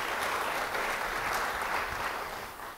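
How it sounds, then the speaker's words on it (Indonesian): Clapping in a church congregation, a steady dense wash of many hands throughout, fairly loud and close, tapering slightly at the end, no voices over it. "Beri tepuk tangan bagi dia."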